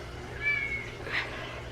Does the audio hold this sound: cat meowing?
yes